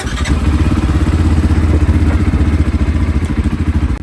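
A quad bike engine turns over and runs at a rough, rapid idle, loud and close by, with a steady pulsing clatter for about four seconds before cutting off.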